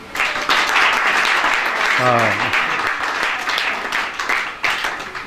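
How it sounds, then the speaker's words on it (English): Audience applause at a kirtan lecture rising into steady, dense clapping that continues for several seconds, with a brief voiced exclamation partway through. "Give him a clap."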